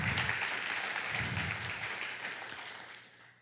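An audience at a Youth of the Year event claps steadily in a sustained burst of applause that fades out toward the end.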